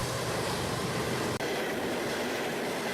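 A CSX coal train rolls steadily past on the rails, its wheels making a loud, continuous broadband roar with no voices, broken only by one brief sharp dip partway through.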